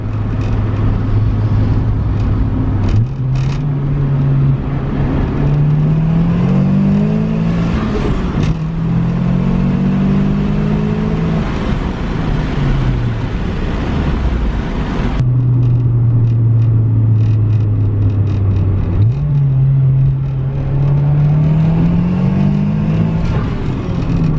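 A turbocharged B20-swapped Honda Integra drives down a road, its engine note climbing through repeated hard pulls with audible shifts between them, loud and close throughout with no talking.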